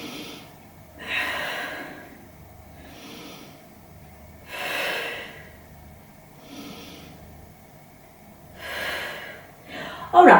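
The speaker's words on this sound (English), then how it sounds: "Big breaths into the back" Slow, deep breaths during a Pilates shell pose back stretch rise and fall in a steady rhythm, four or five long airy inhales and exhales close to the microphone, ending with a brief louder sound.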